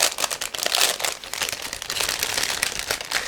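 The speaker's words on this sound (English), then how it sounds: "just give me a second to open this plastic bag" A plastic bag from an ICM 1/72 MiG-25PU model kit crinkles and rustles steadily up close as it is pulled open, with dense crackly bursts and no talking.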